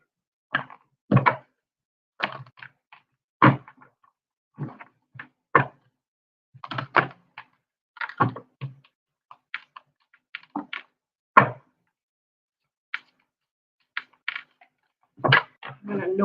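A puppy scratches and bumps at a door, trying to get in, producing scattered sharp knocks and rattles at irregular intervals against a quiet background.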